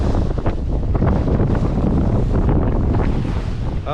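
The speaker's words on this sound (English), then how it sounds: "We're having some good sailing, as you can see." A sailboat with a deeply furled jib and a single reef in the main sails hard through wind and waves, producing loud, constant wind buffeting and rushing water with no letup and no voices.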